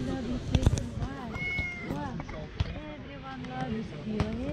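Tabby cat meowing repeatedly, rising and falling cries close by, mixed with voices talking and a few sharp thuds.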